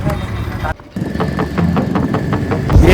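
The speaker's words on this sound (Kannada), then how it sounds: "ಬ್ಲೇಸ್ ಬ್ರೋ ಈಗ ಗಾಡಿ ಚಾಲು ಮಾಡಿದ್ದಾರೆ" A vehicle engine runs at idle close by with a steady low rumble and a rhythmic ticking pulse, briefly cut off near the start, then rising slightly louder toward the end.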